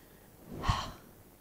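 One soft, close exhale through the mouth during a gentle yoga joint exercise, a brief breathy whoosh rising and fading within about a second in a quiet room.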